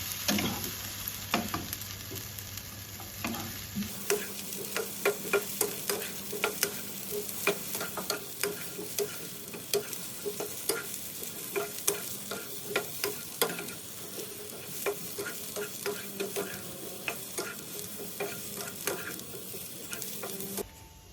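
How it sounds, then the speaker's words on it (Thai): Tomatoes stir-fried in a pan for Thai jaew pla ra with chili, garlic and shallots, a continuous sizzle with repeated sharp scraping and tapping strokes from the spatula, close and steady. "เราก็จะใส่มะเขือเทศลงไปค่ะ แล้วก็คั่วค่ะ"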